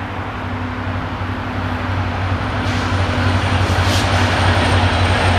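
A freight train passes nearby on Cardinal Street in Pointe-Claire, Montreal, a deep, steady roar growing gradually louder, carrying a faint high squeal.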